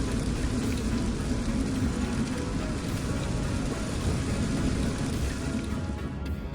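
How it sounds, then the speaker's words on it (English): Steady, dense rain-like hiss fills the whole stretch, loud and unbroken, a sound effect standing in for diamond rain falling on Neptune, with no voices. "Scientists believe that diamonds form and fall like rain in this alien ocean. Diamond rain, falling forever into the dark."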